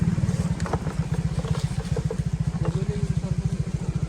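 A motorcycle engine idles nearby at a rural spot beside a waterfall, a loud, fast, even putt-putt pulse lasting throughout, with a person speaking briefly over it.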